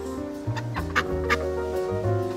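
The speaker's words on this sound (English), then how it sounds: "This is the Golden Goose of Legend." Farm fowl cluck repeatedly in short, rhythmic calls that sit close and clear over a steady background hum, with no voices present.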